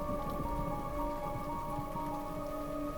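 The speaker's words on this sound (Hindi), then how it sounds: "बाहर तेज बारिश हो रही होती है" Heavy monsoon rain pours down in a steady, dense hiss that never lets up, with no voices or other sounds breaking through.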